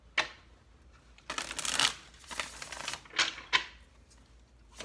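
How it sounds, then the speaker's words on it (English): Cards being shuffled in several quick riffling bursts, crisp and close, with short pauses between them and no talking. "This will be our last shuffle."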